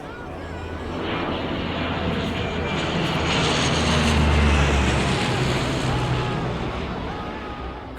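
A search plane flies over the Andes mountains, its engine drone swelling to a peak midway and then fading, a rumbling pass that grows louder and recedes.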